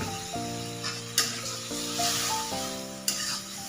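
Lentil curry sautés in a pan after salt and water are added, a steady close sizzle broken by scraping stirs and a couple of sharp utensil clinks, with no talking.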